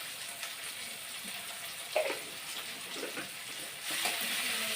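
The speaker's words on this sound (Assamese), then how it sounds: "এতিয়া পিঁয়াজখিনি ভালকৈ ভাজি লওঁ।" Onions fry in oil with panch phoron spices, turmeric and salt, making a soft, steady sizzle with a few stirring clinks and scrapes, and the hiss grows slightly stronger toward the end.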